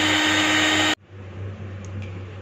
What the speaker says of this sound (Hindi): 2 मिनट के लिए इसको अच्छे से बीट कर लेंगे।